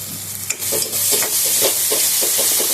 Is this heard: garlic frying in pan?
yes